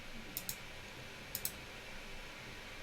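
Two quick double mouse clicks land on a publish button, crisp and close in a quiet room with faint background hiss.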